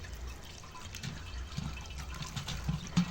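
Dried fish being washed in water gives a soft, close sloshing and dripping, a low continuous splash with a few small splashes near the end.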